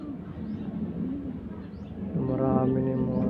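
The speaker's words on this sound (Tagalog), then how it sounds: "Marami na yung mga kalapati ko" Pigeons coo in a loft, including a Chinese pigeon, their low repeated calls rising louder toward the end over a steady background hum.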